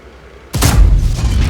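In World of Tanks, the tier 6 cannon of an SU-152 fires once: one sudden, loud, close boom with a heavy low-end thump that rolls out into a rumbling decay.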